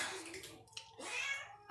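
A cat in a veterinary clinic gives two short meows, close and fairly quiet, separated by a brief pause.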